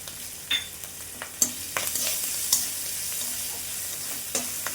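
Chopped green chilli and ginger sizzle in hot oil in a pan, steady frying with sharp scrapes and clicks of a spatula stirring now and then.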